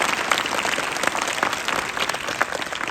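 Audience applause after a live comedy street play, a steady wash of many hands clapping at moderate distance with a few sharper individual claps standing out.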